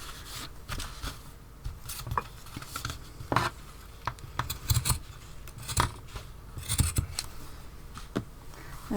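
Scissors snip through lengths of macrame cord for a tassel, with scattered sharp cuts and soft rustling handling noises, close and fairly quiet, with no talking.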